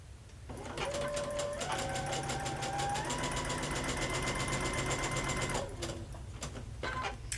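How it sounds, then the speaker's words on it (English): A sewing machine chain-pieces bias-cut fabric units, its motor running in a fast, steady rattling hum for several seconds after a short spin-up, then slowing and stopping near the end. "as I go through chain piecing them and putting each unit through the needle, I'm really letting the sewing machine do"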